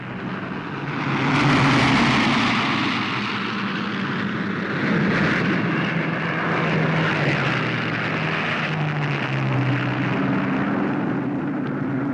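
Massed WWII fighter and bomber planes fly overhead in a large air battle, their propeller engines blending into a loud, continuous droning roar that swells and holds steady throughout.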